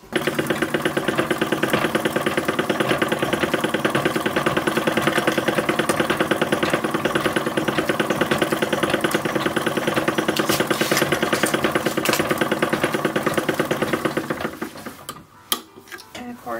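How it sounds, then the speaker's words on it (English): A chain stitch sewing machine runs at a rapid, even mechanical ticking while stitching an 1880s silk bodice, continuing for about fourteen seconds before stopping, followed by a few faint handling clicks. "Because it's a chain stitch machine, no bobbin, we're going to need to tie off each and every end."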